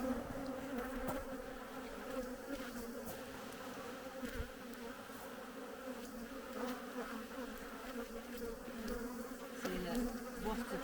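Bees buzz around an opened hive, a dense and steady droning hum that stays constant and fairly close, with occasional soft knocks.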